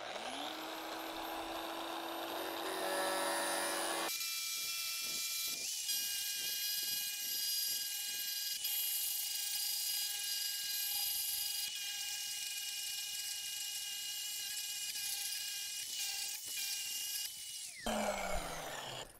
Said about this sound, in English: So you can see I'm able to push the grinder really flat because there's no hub because of the design of this.